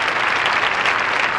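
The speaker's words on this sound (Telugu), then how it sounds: "గట్టిగా చప్పట్లు" Loud, sustained applause from an audience, a thick, even wash of many hands clapping continuously without a break or any voices on top.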